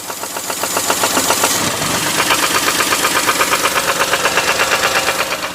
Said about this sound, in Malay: kita suspect bunyi tu datang daripada coil rod bearing ataupun bahagian piston